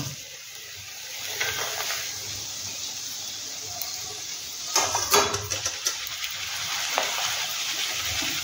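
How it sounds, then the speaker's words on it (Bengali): Flattened rice (chivda) frying in a pan for a Maharashtrian snack, a steady close hiss with scraping stirs and a louder rustling burst partway through, no voices. "এবার আমি চিড়েটা ভাজবো"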